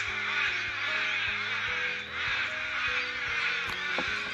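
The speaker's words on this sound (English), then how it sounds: "The birds are going ballistic." Crows caw loudly and repeatedly alongside other birds calling, a dense, busy chorus close by with no talk, heard during a pause on a long trail run in the Adelaide area.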